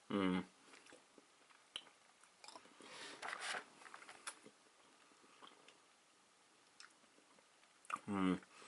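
Someone chews hard white chocolate close up, with soft crunching and squishy mouth sounds between brief bursts of talk at the start and end.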